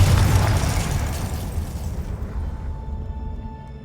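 The Confringo spell in Hogwarts Legacy bursts as a loud, close, booming explosion, then rumbles and fades over a few seconds, with no voice over it.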